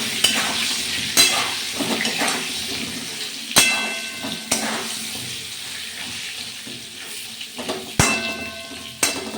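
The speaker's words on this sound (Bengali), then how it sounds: "নুন আর হলুদ দিয়ে আমি পটলগুলোকে ভেজে নিচ্ছি" Pointed gourd fries in a pan with salt and turmeric, a continuous hiss and crackle broken by a few sharp metallic clanks of a utensil against the pan.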